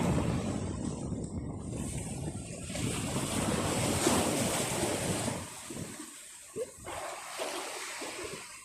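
Sea waves breaking on the shore under strong gusty wind, a loud rushing wash with wind buffeting the microphone, easing to a quieter surge near the end.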